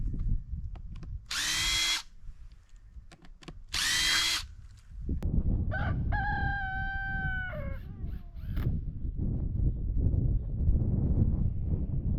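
A rooster crows once at a moderate distance on an Alaska homestead beach, following two short hissing bursts, over constant low wind rumble.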